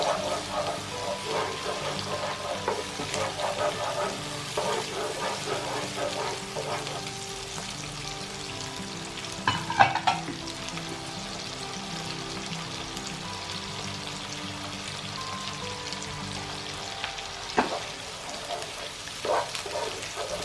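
Finely ground chili paste fries in hot oil with a continuous crackling sizzle, and scattered louder pops and stirring sounds break through. There is little or no talk.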